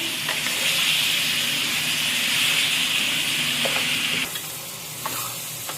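Chicken pieces frying with onions in a pan, a loud, close, hissing sizzle that holds steady, then drops noticeably after a few seconds, broken by brief scraping knocks of a stirring utensil.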